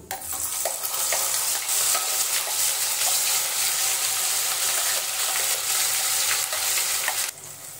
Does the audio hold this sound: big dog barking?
no